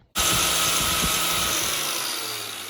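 A power tool starts abruptly and whines loudly and continuously as it makes a pie cut through a metal exhaust pipe on a 300,000-mile EG hatchback, slowly easing off toward the end.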